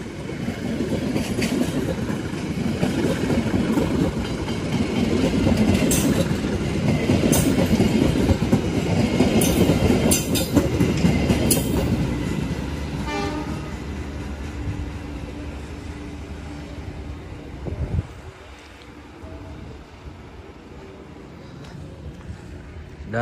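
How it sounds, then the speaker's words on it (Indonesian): A commuter train pulls out of Gedebage station in Bandung, bound for Padalarang, with loud rumbling and clickety-clack of wheels over rail joints that gradually fade as it moves away, and some brief talk in the background. "ini komuter lain dari Gede Bage berangkat menuju stasiun Padalarang"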